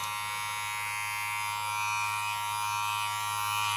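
Electric hair clippers cut hair during a grade 2 back and sides haircut, a close, constant motor buzz holding steady throughout with no talking.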